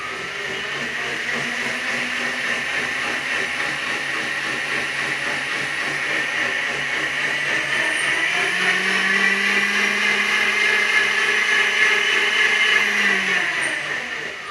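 A millo blender runs steadily and alone, its motor whir rising in pitch as the speed is pushed higher toward the end.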